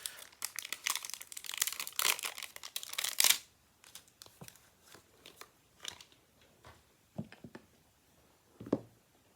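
Plastic backing is peeled off a clear craft stamp for a wine tag, making a close, loud burst of crinkling and crackling for about three seconds, followed by faint scattered rustles and taps.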